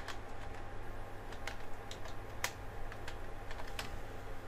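Typing on a computer keyboard: a steady run of close, crisp key clicks over a low background hum, with no talking.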